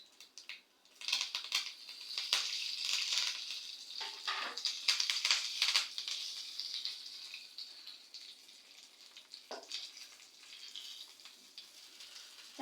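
Curry leaves dropped into hot sesame oil with mustard seeds, chana dal, urad dal and a dried red chilli, stove switched off, give a soft crackling sizzle that swells briefly and then fades to a quieter hiss.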